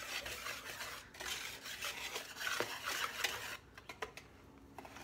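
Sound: whisking waffle batter ingredients together in a bowl

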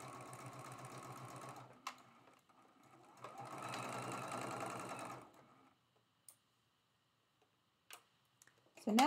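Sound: sewing machine stitching quilt block pieces

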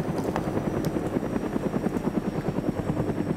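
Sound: helicopter flying in video game DayZ Origins

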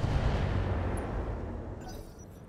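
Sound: LRM missile fire in the RogueTech video game

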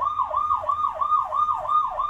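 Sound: police siren of a children's toy police motorcycle

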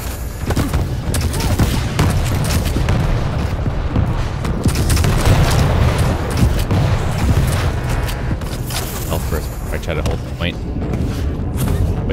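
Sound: rocket and gunfire shooting in Quake Champions video game

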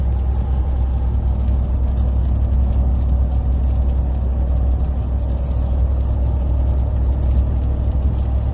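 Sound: 2021 Ram TRX truck accelerating

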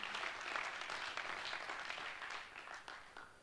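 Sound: applause

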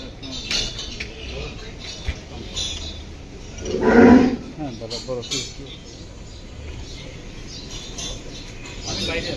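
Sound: cow mooing

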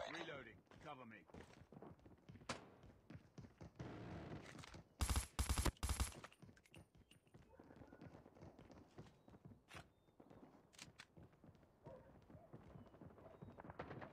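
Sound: sentry gun firing in a video game

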